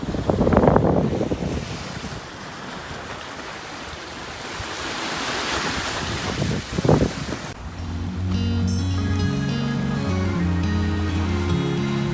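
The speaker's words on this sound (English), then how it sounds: "So we are on the beach for sundowners. It is quite breezy." Steady wind and breaking surf on a breezy Caribbean island beach, a loud continuous roar with gusts buffeting the microphone; near the end a tonal hum, likely a boat, rises underneath.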